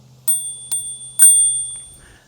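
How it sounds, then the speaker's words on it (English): A small bell on a Mihogo Mini e-bike rings three times in quick succession, bright and close, with a faint low hum beneath and a brief quiet tail after the last ring. "It's got a little bell."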